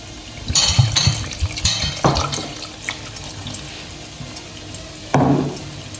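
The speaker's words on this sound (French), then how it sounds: "Je rajoute de l'eau." Water poured into a cooking pot of tomato sauce with olive oil and spices for a Tunisian couscous with kedid, splashing in a few bursts over about six seconds with a final short pour near the end.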